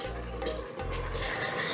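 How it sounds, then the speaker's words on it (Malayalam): Water pours into a pot of simmering sambar vegetables for an Onam meal, a brief steady splashing rush close by with no voices. "വെള്ളം കുറവാണ്, നമുക്ക് ചേർത്ത് കൊടുക്കാം കേട്ടോ."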